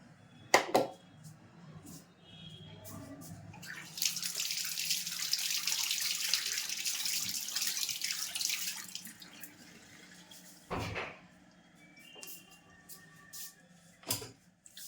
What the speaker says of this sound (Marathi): आता ह्याला तळून घेऊ.